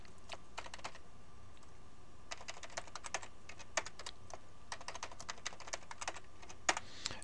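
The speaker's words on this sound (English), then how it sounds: "I'm going to type in a password." Someone types a password on a computer keyboard, with quick bursts of crisp key clicks separated by short pauses, close and fairly quiet, with no talking.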